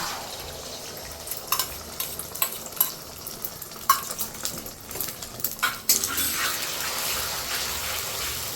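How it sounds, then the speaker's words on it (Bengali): Quiet frying sizzle of eggs in a wok with irregular scraping clicks of a utensil stirring, a little louder toward the end. "কড়াইতে তেল গরম করে নিয়ে 3টে ডিম ভেঙে একটু নেড়ে চেড়ে নিচ্ছি।"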